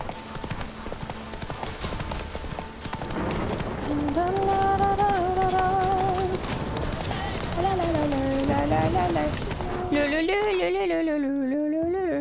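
Roach, the horse in the video game The Witcher 3, gallops with steady clip-clopping hooves under game music and a sung melody, while a person talks over it at times.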